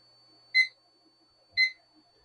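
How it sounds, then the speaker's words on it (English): Kitchen timer alarm going off while beer-braised potatoes simmer, two short bright electronic beeps about a second apart, clear and close against a quiet room. "So our timer is going off."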